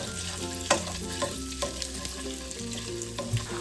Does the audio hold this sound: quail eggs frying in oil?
yes